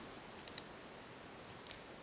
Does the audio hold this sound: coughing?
no